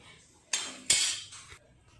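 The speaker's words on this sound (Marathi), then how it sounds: "त्या पद्धतीने मी मिक्स करून घेणार आहे" Thin poha chivda stirred in a pan: two or three loud, scratchy metal scrapes of a spoon against the pan, each lasting a fraction of a second, close by and with no voices.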